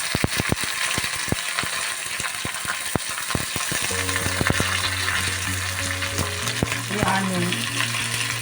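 Onions, curry leaves and crushed garlic sizzle and crackle steadily in a hot pan, with scattered clicks of a utensil stirring and a faint hum underneath, close and continuous with no talking.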